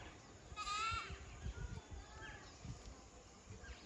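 A goat bleats once, a short wavering cry, faint against quiet outdoor background noise with soft thumps and rustling.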